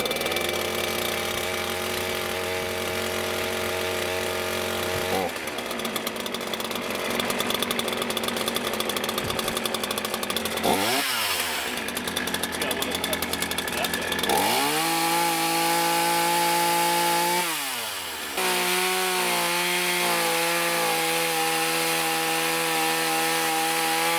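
A Craftsman 42cc S185 18-inch gas chainsaw runs loud and close, its engine revving up and bogging down as it bites into wood, with steady idling stretches between rising cuts and no talking.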